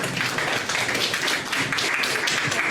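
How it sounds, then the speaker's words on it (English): Audience applause at an agricultural research symposium conference in South Africa, a dense, even burst of many hands clapping that holds steady for a few seconds. "Can you give her a round of applause?"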